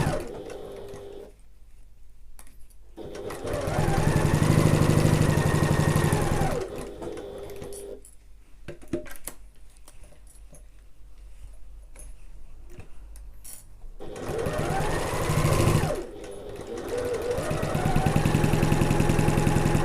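A sewing machine runs in several bursts of stitching around a sling bag, pausing briefly where the presser foot is lifted to pivot at a corner, then carrying on; the motor hum is loud and close.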